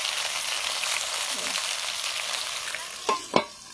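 Vegetables such as beans and pointed gourd fry in a hot wok at a roadside cooking spot, giving a steady soft hiss with two brief sharp clinks near the end.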